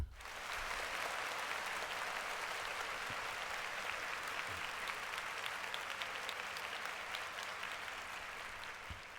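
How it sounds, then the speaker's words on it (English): Sustained applause from a studio or small audience, steady and dense for the full stretch, fairly close and even, with scattered sharper claps. "Clap it up for that"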